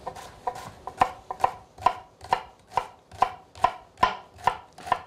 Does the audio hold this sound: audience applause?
no